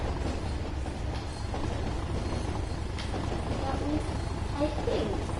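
A locomotive in Train Sim World on the Tees Valley line runs with a steady, loud rumble and faint rhythmic clatter that holds throughout, under a talking voice.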